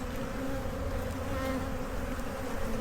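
Honey bees from an opened overwintered hive fill the air with a steady, dense, close buzzing drone that continues unbroken throughout, with no talking.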